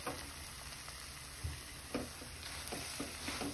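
Khoya roasting in a pan for carrot halwa, with a soft steady sizzle and a few scattered scrapes and taps of stirring, close and fairly quiet.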